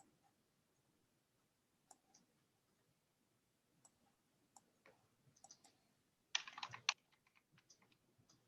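People typing on computer keyboards during an online meeting: sparse soft key clicks, then a brief dense burst of rapid typing, followed by scattered taps, faint and close, with no talk.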